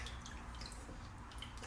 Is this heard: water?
yes